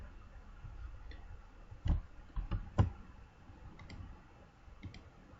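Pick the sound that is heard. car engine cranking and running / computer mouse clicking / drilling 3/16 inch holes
computer mouse clicking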